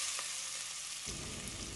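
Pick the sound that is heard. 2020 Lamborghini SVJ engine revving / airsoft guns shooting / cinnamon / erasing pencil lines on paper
cinnamon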